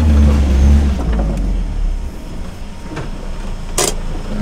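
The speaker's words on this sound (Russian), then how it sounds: "Газануть обязательно перед тем, как заглушить." A car engine idling close by, its loud low rumble swelling in a brief rev before settling as the motor is shut off, followed by a few small mechanical clicks.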